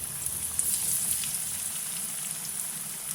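Pieces of fish marinated for over two hours fry in hot oil, giving a steady, close, crackling sizzle like light rain, with no talking.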